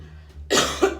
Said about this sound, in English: I have to clear my throat for this one.